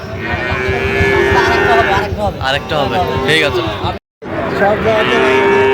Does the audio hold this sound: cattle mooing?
yes